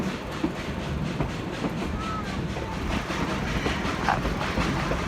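A Cumbres and Toltec railroad locomotive labours up a 4% grade, a steady loud rumble with faint rhythmic clatter of the cars and an occasional squeal, heard from aboard the train.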